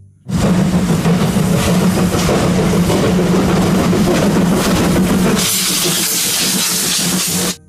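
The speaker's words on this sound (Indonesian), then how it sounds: "kereta api Thomas warna merah." A red Thomas toy train gives off a loud, continuous steam-like hiss over a low motor hum, growing brighter and harsher for the last couple of seconds before stopping abruptly.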